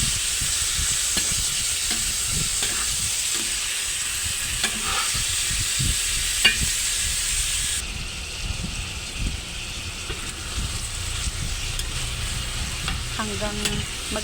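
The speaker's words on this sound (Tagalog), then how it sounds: "Mix lang natin sa ating mga aromatics." Sliced whole chicken with aromatics is stirred in a frying pan, giving a steady loud sizzle with scraping stirs throughout and a brief spoken word near the end.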